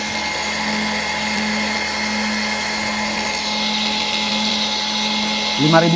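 A slim cordless angle grinder, the AP22PRO, runs at its lowest speed setting with a steady, high motor whine and hum, held close and even throughout. A voice speaks briefly over the running tool near the end.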